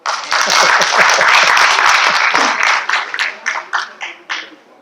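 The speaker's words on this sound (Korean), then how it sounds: "괜찮으면 박수 한번 보내주세요" Applause from an audience at a political rally launch ceremony in Gwangju, a dense burst of clapping that thins into scattered individual claps and fades out near the end, with a voice briefly audible early on.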